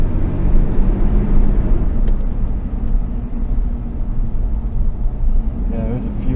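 Car driving through a ditch: a continuous heavy low rumble of engine and rough ground, close and steady, with no talk.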